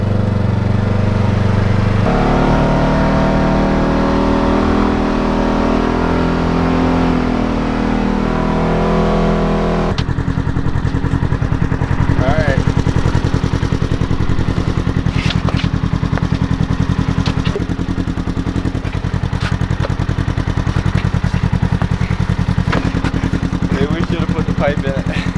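A sport utility vehicle's engine drones loudly and continuously as it drives around a landscaping site, its tone shifting partway through, with voices talking over it.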